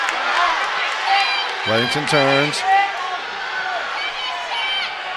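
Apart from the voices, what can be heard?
Andover crowd shouting at wrestling match, asking for stall call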